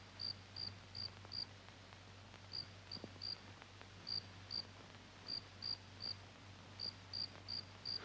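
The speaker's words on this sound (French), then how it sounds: "ce n'est pas dans votre tête, c'est un grillon" A cricket chirps faintly in a quiet room, giving short high trills in small irregular bursts of two to four over a low steady hum, with no voices.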